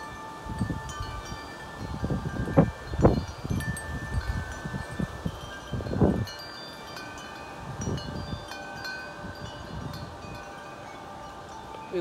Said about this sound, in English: these trees are going crazy. It's really windy